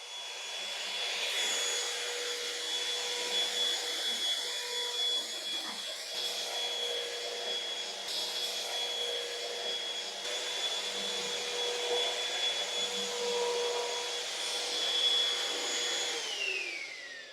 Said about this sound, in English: Now let me turn on the high suction.